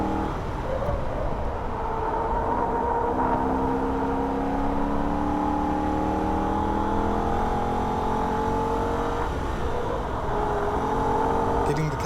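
A Holden VF Ute engine at wide open throttle on the Nürburgring, a loud steady drone with rising harmonic pitch as the car accelerates, heard from the cabin under continuous talk.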